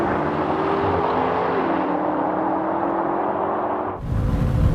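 Mercedes-AMG E63 S, BMW M5 and Audi RS5 drag racing side by side, a loud sustained engine roar with a rising then shifting tone, ending in a sudden burst of closer wind-blasted rumble.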